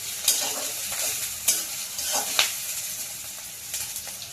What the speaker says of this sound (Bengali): এখন আমি পেঁয়াজ কাঁচামরিচগুলো ভেজে নিব